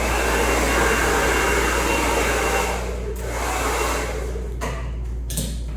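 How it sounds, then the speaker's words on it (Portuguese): A steady, loud whooshing of a hair dryer running continuously during a barbershop beard grooming, with brief dips and shifts in airflow toward the end. "vou bater um secador nele para tirar todo esse pelinho"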